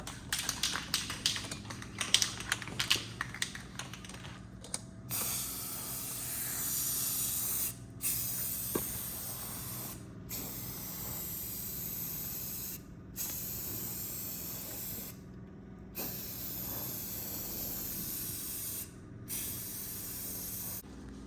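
Spray paint hisses from an aerosol can over a car engine bay, a Mk4 GLI, in repeated close bursts of several seconds separated by short pauses, with some tapping at the start.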